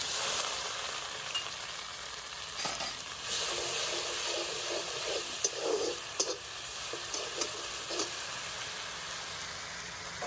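Sliced onions fry in a pan with green chillies, garlic and ginger for a mutton keema filling, a steady close sizzle broken by occasional louder crackles and soft spatula scrapes, no voices.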